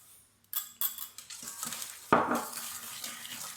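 Egg yolks and sugar whisked in a bowl for a classic Paris-Brest pastry cream, giving a string of light clinks and scrapes of the whisk against the bowl, fairly near and unaccompanied by voices.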